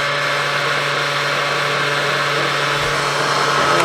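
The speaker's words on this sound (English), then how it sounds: "it's an old trusty blender here that we are rocking it and rolling with here on set" An old, well-used blender whirs steadily through cottage cheese on a studio set, a loud continuous motor drone with a constant pitch that holds unbroken from start to finish.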